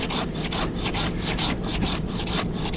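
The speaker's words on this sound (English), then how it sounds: "So I'm just gonna handsaw cut this dead piece off." A handsaw cuts through a dead branch on a tree with steady back-and-forth strokes, each rasping pass close and loud, repeating in an even rhythm with no talking.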